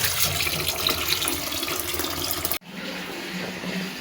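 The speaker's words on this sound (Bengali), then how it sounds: "শাকগুলো খুব পরিষ্কার করে আমি ধুয়ে নেব, কারণ শাকে অনেক বালু থাকে।" Leafy greens rinsed under a running kitchen tap, a steady close hiss of water that is cut off briefly and then returns somewhat quieter.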